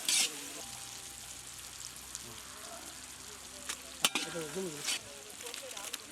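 Spicy mutton sautés in a pan during village cooking for Hakka mutton noodles, a quiet, steady sizzle with occasional clinks of stirring, and voices heard now and then.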